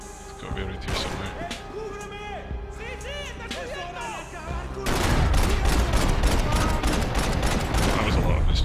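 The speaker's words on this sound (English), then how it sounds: "That was a lot of missed shots." Gunfire bursts out in the shooter Max Payne 3, with scattered shots and whooshing effects at first and then a dense, loud volley of rapid shots in the second half, with game voices mixed in.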